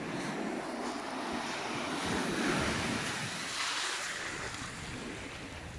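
Sea swell breaking and washing on Shoreham beach on a rainy day, a steady broad roar of surf with wind noise buffeting the microphone throughout.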